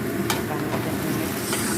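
Vegetable rice is stirred and mixed in a single pot, with a steady close scraping and soft sizzling that continues throughout the short stretch, and no talking.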